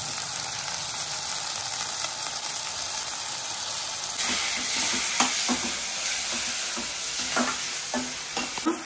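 Steady sizzling of tomato, curry leaves and coriander sautéing with salt in a hot pan, with a brief scraping and stirring clatter near the end, close and continuous with no talking.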